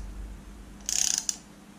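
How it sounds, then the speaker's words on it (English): Ratchet and socket tightening a camshaft seal bolt on a Subaru EJ25 engine (WRX/STI): a brief, close burst of rapid clicks, then a single click, against a quiet background. "Get your Allen key, take your socket, and simply start tightening."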